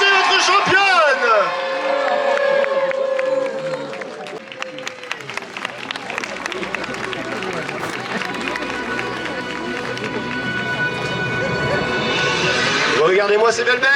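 Crowd applause and cheering for the tournament champion at the Saint-Renan medieval fair, a sustained outdoor clapping swell that fades mid-clip and returns, with an announcer talking over it.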